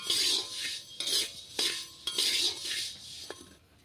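Paddy roasts in a dry pan outdoors, stirred in rhythmic bursts of gritty scraping and rattling grain, with small metallic clinks between strokes.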